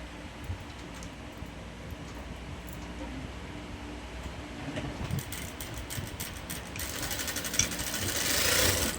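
A sewing machine stitches a child's kaftan, a steady whirring run at close range that grows louder toward the end, with a voice speaking over it.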